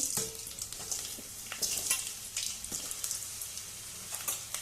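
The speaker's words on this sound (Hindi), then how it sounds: "अब इसमें हम ये कटी हुई आलू डाल के फ्राई कर लेंगे।" Cut potatoes frying in hot cooking oil on a gas stove, giving a close, continuous crackling sizzle with occasional stirring scrapes and no voices.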